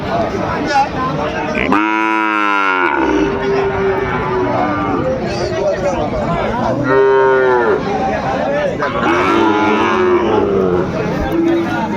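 Sahiwal bull calves low and bellow at a busy cattle market, with two long harmonic moos and a shorter third rising over constant crowd chatter and voices.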